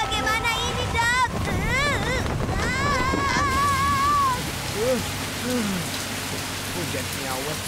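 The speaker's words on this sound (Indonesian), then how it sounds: "Hujan nyawet sekali." Heavy rain falls steadily in a cartoon scene, a dense hiss lasting the whole stretch. Animated characters talk and exclaim over it, their voices loud in the first half.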